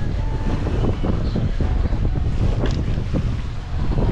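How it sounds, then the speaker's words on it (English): Strong wind buffets the microphone in a constant loud rumble with gusty bursts, and faint rushing water or surf beneath it, on a Red Sea shore in Egypt. "Bit windy today though."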